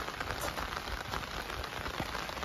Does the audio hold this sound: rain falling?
yes